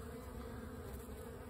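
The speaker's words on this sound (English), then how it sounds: "there's a wasp there trying to get in" Insects buzz steadily at the entrance of a beehive, with a wasp among them, forming a continuous close hum with no voices.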